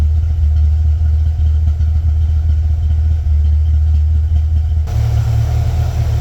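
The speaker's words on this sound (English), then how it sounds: "Not too shabby for a cold start. She fired right up." A 1969 Ford Torino GT engine running steadily just after a cold start, with a loud, deep idling rumble close by throughout and no talk.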